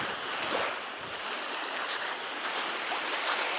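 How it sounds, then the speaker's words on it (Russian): Sea waves wash steadily onto a narrowed beach at a strong high tide on the coast at Zelenogradsk, a continuous broadband hiss and rush of surf without talk. "Мы прогуливаемся у моря."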